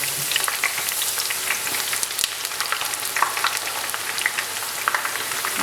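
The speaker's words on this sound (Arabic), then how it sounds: "دابا نخليو الدجاج ديالنا يتقلى" Chicken pieces fry in a pan with a dense, crackling sizzle, made up of steady popping and spitting at moderate loudness. Nobody speaks over it.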